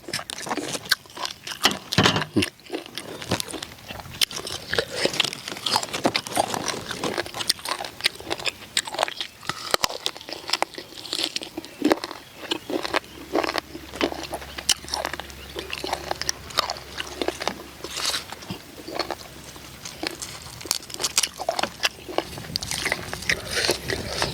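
Unripe mango bitten and chewed close to the mouth, with sharp crunchy bites followed by steady wet mastication for a long stretch, loud and intimate, with almost no talk.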